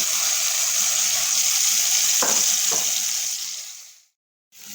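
Spices and softened food frying with steady sizzle in a pan on the stove, a couple of stirring scrapes mid-way, then the sizzle fades out to near silence before resuming briefly.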